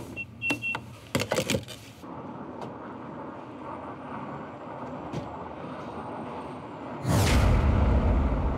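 A Jeep Wagoneer's engine hums steadily behind a few sharp clicks at first. Near the end it surges into a loud, full roar as it accelerates.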